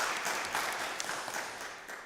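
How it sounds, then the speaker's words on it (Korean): A church congregation at a Sunday service in Dortmund claps in thanks, a soft, even patter of applause that sounds distant and quiet throughout. "감사의 박수 한번 주시고요"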